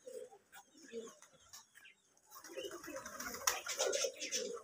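Giribaz pigeons coo in a loft in Rajshahi, their low murmuring calls steady in the background, growing busier and louder toward the end, with a few brief voices nearby.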